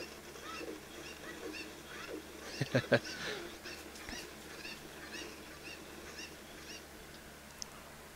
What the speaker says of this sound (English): Chickens have gone crazy.